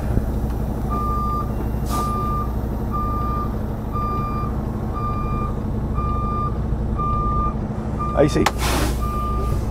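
Truck reversing alarm beeping in a steady, evenly spaced rhythm while backing up, over a low rumbling idle and a brief hiss of air near the end, with someone speaking briefly.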